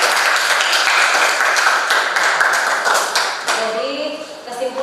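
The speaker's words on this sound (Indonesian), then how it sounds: "tepuk tangan untuk Rahel dulu" Classroom of students clapping for a classmate during a teacher-training lesson, a dense burst of many hands that carries on for several seconds before thinning as voices rise.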